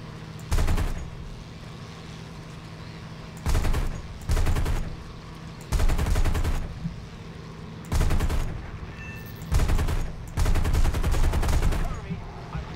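Bursts of 37mm aircraft cannon fire in the War Thunder game, with about seven short, heavy volleys spaced a second or two apart over a steady engine drone, loud and close.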